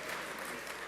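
Brief, soft applause from a crowd at a national honours and investiture ceremony, an even patter of many hands clapping at a distance.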